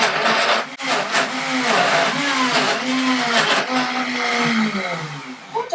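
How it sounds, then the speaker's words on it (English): Blender whirring steadily as it blends strawberry ice cream, a loud continuous motor roar with shifting pitch as the contents churn, running alone without talk. "I can't emphasize enough how important it is to have a good blender"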